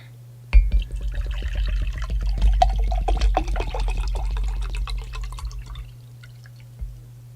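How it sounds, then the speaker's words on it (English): Water poured into a drinking glass, a close, continuous glugging and splashing fill lasting several seconds before trailing off into a few final drips. "let's fill up my water glass"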